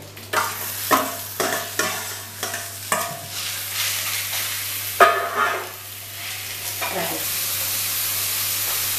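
Boneless chicken pieces marinated in yogurt hit a hot pan and sizzle, and a spoon scrapes and stirs them in a quick run of strokes, close up. A steady frying hiss carries on afterward.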